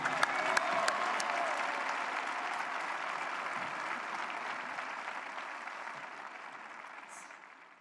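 Spectators at the Roland-Garros final ceremony applaud in a dense, sustained wash of clapping that fades gradually toward the end.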